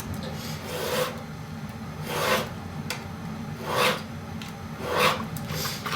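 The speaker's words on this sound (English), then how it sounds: "The tar paper doesn't love to be cut on curves with just a knife." Knife drawn through tar paper on a workbench for a sheet metal cone template, a rasping scrape repeating in four rhythmic strokes about every second and a half, close and alone.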